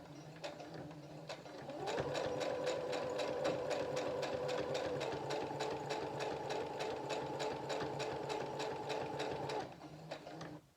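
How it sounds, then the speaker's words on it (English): Sewing machine stitching a pom pom pillow, a steady rapid mechanical chatter that speeds up, runs evenly for several seconds, then slows and stops, close and alone. "Then you're going to go ahead and start sewing."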